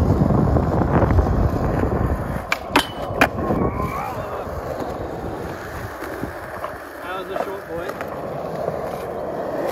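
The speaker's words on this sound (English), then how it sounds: "South to south orderly wind here, about 15 kilometers an hour." Outdoor wind buffeting a microphone beside skateboarding, a loud, uneven rumble and gusts under people talking, with occasional sharp knocks.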